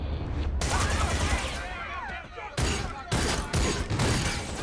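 Gunfire in The Expanse season 4 episode "Oppressor" comes as loud, dense bursts of rapid automatic shots, broken by a brief lull, with voices mixed in.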